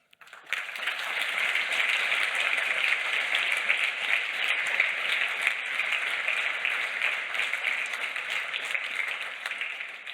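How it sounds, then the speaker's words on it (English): An audience at Ubuntu Summit 2023 bursts into applause, a dense, sustained roar of clapping that starts abruptly and carries on steadily for ten seconds. "Applause for that."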